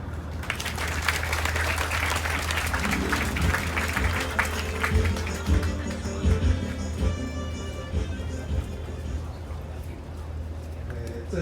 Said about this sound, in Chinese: 请热情的掌声，让我们欢迎何董事长